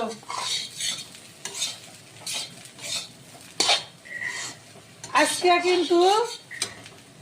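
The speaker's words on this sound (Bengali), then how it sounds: "এই যে আলু ভাজতেছি, আলু ভাজাও দেখুন কি বইল" Potatoes fry in a pan under a sizzle as a metal utensil stirs and scrapes against the pan in repeated sharp strokes. A voice briefly rises near the end.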